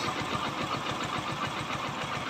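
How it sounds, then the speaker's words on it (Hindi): A motorcycle engine idles steadily after a mileage and carburetor tuning, its even low putter running continuously and close by with no talking. "तो चलिए बाइक को स्टार्ट करना जरा उधर से। अब देखें इंजन की आप साउंड देखें"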